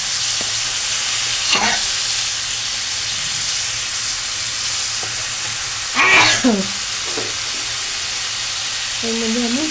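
Cauliflower frying in a pan while water is sprinkled in, a continuous loud hiss of sizzling with sharper bursts as the water hits the hot oil, and a short bit of speech near the end.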